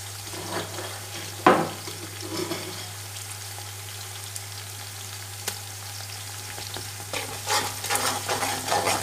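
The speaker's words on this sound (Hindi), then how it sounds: "अब इसको भी 1-2 मिनट के लिए भूनते हैं" Spices and garlic-ginger paste fry in hot oil for vegetable pulao, a steady sizzle under a low hum, broken by a few sharp spoon scrapes and stirring clatters, with no talk.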